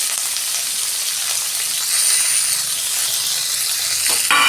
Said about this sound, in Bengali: ওই তেলেতে আমি পেঁয়াজ, রসুন আর দুটো কাঁচা লঙ্কা দিয়ে দিচ্ছি।